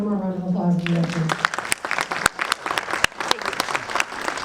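After a brief spoken phrase, an economic summit audience breaks into hearty applause, a dense crackle of many hands with a few sharper individual claps, close and loud, continuing to the end.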